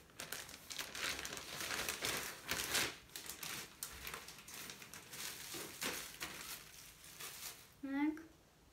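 Plastic package holding clothing ordered from SHEIN is crinkled and torn open up close, with bursts of rustling and crackling plastic, and a voice briefly at the end.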